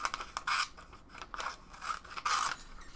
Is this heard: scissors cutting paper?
yes